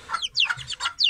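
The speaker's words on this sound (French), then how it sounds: "excusez-moi pour la poule" A hen clucks close by in a quick run of four or five sharp, bright calls, with no talking over it.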